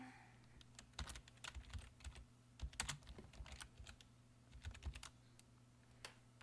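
Rapid, uneven keystrokes on a computer keyboard while writing a script in Celtx, clicking in quick clusters with short pauses, fairly faint and close with no speech.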